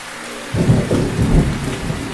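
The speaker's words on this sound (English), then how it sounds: "It's still raining." Rain and rolling thunder from a thunderstorm in a wildlife video game, a dense rumbling wash that swells suddenly after a quiet start and stays loud with no voices.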